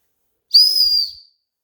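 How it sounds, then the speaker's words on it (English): A small plastic survival whistle bought at Walmart gives one shrill, steady blast of just under a second, loud and close, alone after a short silence. "this is a really cool little survival whistle I got at Walmart."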